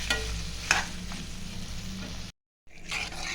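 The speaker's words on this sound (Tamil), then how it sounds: "நல்லா சிக்கன் ஃப்ரை ரெடி ஆயிடுச்சு." Chicken fry sizzles steadily in oil as it is stirred in the pan, loud and close, with a scrape partway through, then a brief silent gap before the frying noise returns.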